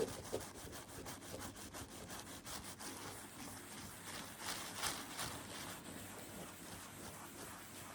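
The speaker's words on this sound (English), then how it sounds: "I've got the cloth and slowly buff away at it." A cloth buffs a vintage Louis Vuitton Alma PM leather handbag in a steady, soft, close rubbing swish with slight rhythmic strokes and no talking.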